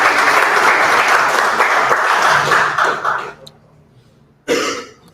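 A conference session audience at PyCon APAC 2024 gives the speaker a dense round of applause that fades out, followed by a short fresh burst of clapping near the end.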